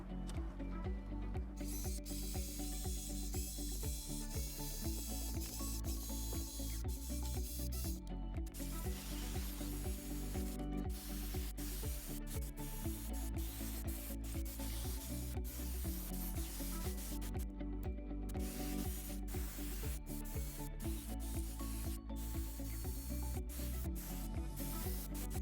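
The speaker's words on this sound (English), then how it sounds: "I'm going to clean the wheel hub so that there's good contact between the wheel hub and the new rotors." A 2010 Ford Mustang rear wheel hub is scrubbed clean during a brake and rotor replacement, a steady, continuous abrasive rubbing and sanding noise that carries on throughout with no speech.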